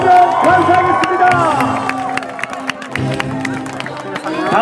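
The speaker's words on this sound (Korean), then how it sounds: "우리 수훈 선수 올라올 때 큰 박수로 환영해주시면 감사하겠습니다." A baseball stadium crowd at a Nexen vs SK game applauds and cheers the players of the game, with scattered claps and crowd noise under a loud amplified voice.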